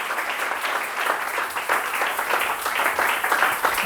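A church congregation applauds and cheers for Jesus, dense rapid clapping with raised voices mixed in, steady and fairly full for a few seconds.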